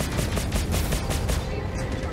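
Rapid sustained gunfire from a ship's Tarantula guns in the space game Star Citizen, a loud continuous rattling barrage of repeated shots filling the whole moment.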